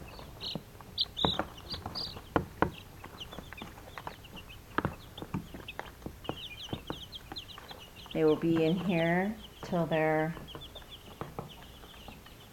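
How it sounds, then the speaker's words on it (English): Young meat chickens and turkeys a couple of weeks old cluck and peep indoors in scattered short calls, with a person talking over them and two longer louder calls near the end. "our meat chickens and our meat turkeys."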